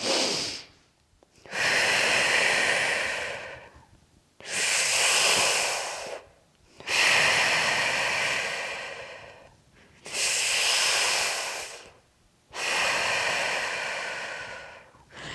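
Slow, deep core-bracing breaths during a pregnancy weightlifting exercise, long airy inhales and exhales alternating in a steady rhythm of about six cycles, close and clear with short pauses between.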